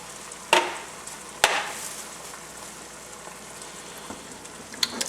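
Whole tomatoes and their juice splash into a hot pot of marinara, giving two sharp wet plops over a soft, rain-like sizzle, followed by a few lighter drips and splatters.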